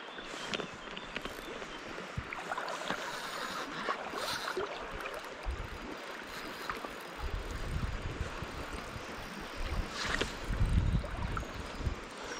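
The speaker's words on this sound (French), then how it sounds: "le bruit du remous en surface, c'est joli" Water swirling in surface eddies on a large river while fly fishing, a steady rushing and gurgling close by, with some wind buffeting and occasional louder splashy surges.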